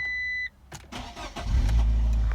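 A Fiat Grande Punto engine starts after a short dashboard beep, the starter cranking briefly before the engine catches and settles into a loud, close idle.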